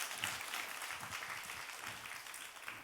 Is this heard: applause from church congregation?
yes